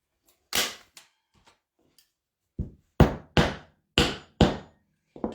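Hammering or stapling fabric onto a chair seat: sharp, close knocks, a couple of isolated strikes and then a quicker run of five or six hits with brief pauses between them, and no talking.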